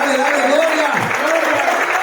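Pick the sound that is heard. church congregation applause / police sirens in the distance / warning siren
church congregation applause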